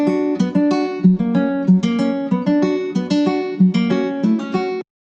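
Melody sample for a YBNL-style remix built in FL Studio: a bright, plucky synth line of short, quick notes in a bouncing rhythm, close and clean, ending abruptly.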